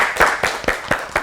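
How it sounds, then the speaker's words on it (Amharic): Studio audience on an Ethiopian children's quiz show claps for a correct answer, about five sharp, evenly spaced claps, close and alone. "ኤ አጨብጭቡለት፣ በደንብ አጨብጭቡለት።"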